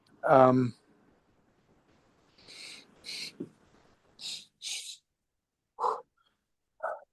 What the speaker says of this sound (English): Breathing with you.